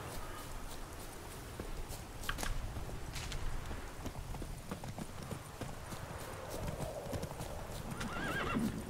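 Horse hooves clip-clopping at a steady walking pace with a whinny near the end, from The Witcher 3: Wild Hunt Hearts of Stone, fairly quiet over a low game ambience.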